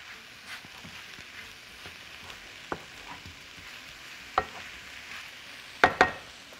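Food frying in a pan while being stirred: a steady soft sizzle with occasional sharp spoon scrapes and clinks, the loudest pair near the end, close by and without talk.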